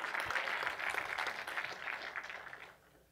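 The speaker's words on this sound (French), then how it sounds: "Est-ce qu'on peut applaudir?" Church congregation applauding after a sermon about youth, a steady wash of many hands clapping at a distance, fairly faint, holding for nearly three seconds before dropping away.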